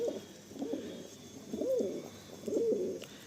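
Pigeons in a loft give soft, low rolling coos in a few repeated bursts, faint and fairly close, with no talk.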